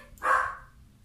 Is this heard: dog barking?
yes